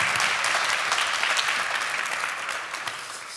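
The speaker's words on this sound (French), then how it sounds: "On l'applaudit, s'il vous plaît" Steady, dense applause from an audience greeting a speaker as he takes the stage, loud and continuous throughout with a slight easing near the end.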